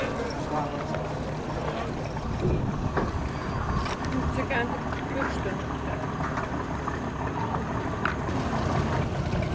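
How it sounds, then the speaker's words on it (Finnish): A steady engine drone and rushing water from a sailing ship under motor power, with wind buffeting the microphone and a voice talking over it. "tämä purjelaiva, joka kuitenkin kuulostaa moottorivoimin liikkuva ainakin tällä hetkellä"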